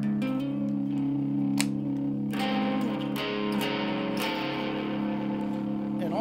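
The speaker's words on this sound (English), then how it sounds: "So I'm going to start off with the distortion lower." Electric guitar played through an overdrive distortion pedal into a clean amp with the drive set low, sustained chords ringing with a gritty edge and a few picked attacks.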